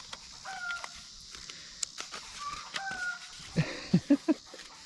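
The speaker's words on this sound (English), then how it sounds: "Now the chickens are going crazy." Chickens in a backyard cluck and squawk excitedly in a quiet outdoor setting, scattered calls building to a quick burst of several loud clucks near the end.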